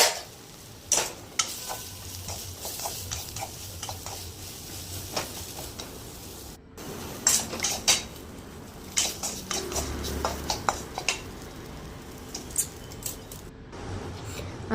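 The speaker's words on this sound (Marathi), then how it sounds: "मोरिंगा छान शिलून तेलामध्ये हळद टाकून छान तळून घ्या" Moringa pods fry in oil with turmeric in a pan, giving a soft steady sizzle broken by scraping, stirring clicks and light utensil taps, fairly quiet and close with no talking.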